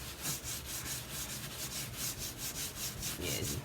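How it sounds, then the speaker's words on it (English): A Brillo pad scrubs a glass stovetop in quick, regular back-and-forth strokes, a close, rhythmic abrasive rasping with no voices. "you can't rub gently and lightly because you're trying to clean it"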